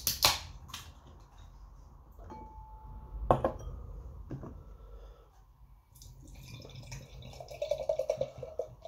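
Cap pops off a bottle of bourbon-barrel-aged dark stout, followed by a brief clink and beer pouring and gurgling into a regular glass, close and fairly quiet with no talking.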